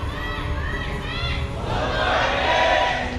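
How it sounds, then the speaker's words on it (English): Spectators at a StarCraft esports match cheer and shout together, a swelling crowd roar mixed with chatter and excited voices, rising louder in the second half. "that's cheers. when you're supposed to cheer"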